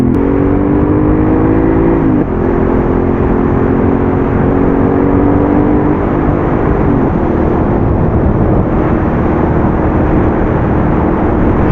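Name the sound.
motorcycle engine revving through aftermarket exhaust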